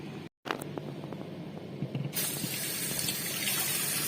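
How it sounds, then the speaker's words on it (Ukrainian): Cold water running from a tap into a pot, starting as a thin trickle and swelling into a steady, louder gush as it fills. "Вмикаємо холодну воду і заливаємо холодною водою"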